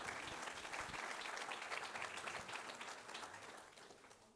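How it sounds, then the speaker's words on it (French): A crowd at an evening event in the Tarn applauds a pottery manager from Albi as she is introduced, sustained dense clapping that gradually fades toward the end. "que vous applaudissez s'il vous plaît"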